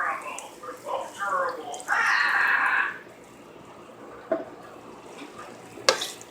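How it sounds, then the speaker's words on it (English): Two cups of milk pour from a ranch dressing bottle into a pan for a creamy chicken pasta, a gurgling splash lasting about a second before a quieter stretch with a few small clinks. "I'm pouring my 2 cups of milk in there."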